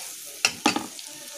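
Vegetables with green chillies frying in a pan for a mixed rice dish made from leftover rice, heard as a short steady sizzle with two quick stirring scrapes, close and with no talk.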